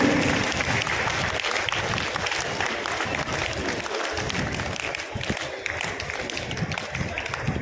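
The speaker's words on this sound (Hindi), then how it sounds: "जोरदार तालियां एक बार डायरेक्टर मैम और खुशबू मैम के लिए" A loud, sustained round of applause from the audience at a school event, honoring the director and another staff member; dense clapping fills the whole stretch with little variation.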